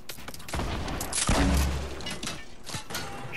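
Heavy gunfire in a Fortnite match, with a dense burst of shots and a booming impact, loud and rattling, the clatter running on throughout.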